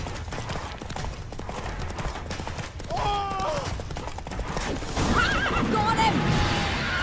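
Roach, a horse in The Witcher 3, whinnies twice with sharp rising cries over a steady wash of galloping hoofbeats and game ambience, loud and near.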